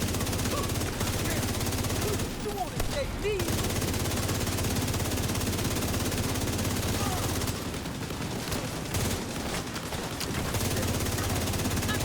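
Allied gunfire in a shooter: sustained rapid machine-gun bursts from several guns, loud and nearly unbroken, with brief pauses, and someone talking over parts of it.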